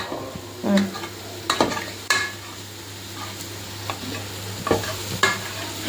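Egg curry masala fries in a pan while a utensil stirs it, producing repeated scraping knocks over a steady low sizzle, close and moderately loud.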